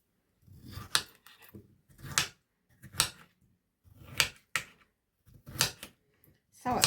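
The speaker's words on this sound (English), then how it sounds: "what we're going to do is just cut it in slices" A knife slices a cucumber into half-moon pieces on a cutting board, making six or so distinct crisp chops spaced about a second apart, close and clear, with faint rustling between cuts.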